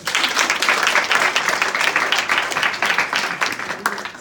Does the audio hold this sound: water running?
no